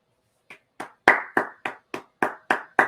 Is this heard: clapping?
yes